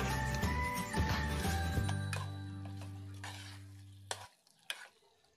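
Boneless beef being stirred into a pot for biryani, with steady scraping and sizzling up close, a few clinks of a utensil against the pot, then the stirring stops and only faint clinks remain.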